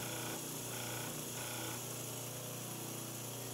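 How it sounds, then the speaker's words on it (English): Bench grinder flattening the primary bevel of a steel chisel, a loud continuous whine with a few brief surges of harsher grinding contact, steady and close throughout. "it'll bring that primary bevel back and grind the whole thing flat"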